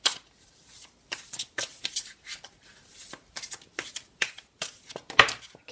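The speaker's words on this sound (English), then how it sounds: "I'm just going to continue shuffling for a bit" Tarot cards being shuffled by hand in quick crisp bursts of riffling and slapping, close and fairly loud, with a few pauses between rounds and no talking.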